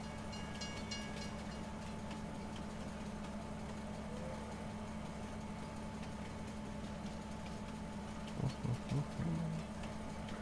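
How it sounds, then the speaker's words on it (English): Train running in Farming Simulator 19, a steady low rumble of rail wagons and engine, moderately quiet, with a short burst of tones near the end. "Just going for a nice little train ride. All aboard!"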